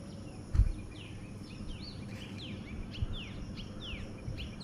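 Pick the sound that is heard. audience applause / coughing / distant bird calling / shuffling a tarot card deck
distant bird calling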